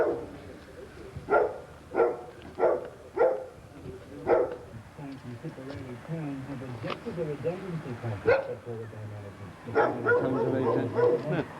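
A dog gives a run of sharp barks in quick succession, then quieter yips, near the microphone while people talk at a Gaelic football county final.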